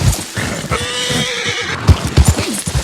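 A horse in a video game lets out a loud, close whinny, followed by snorts and hoof clip-clops.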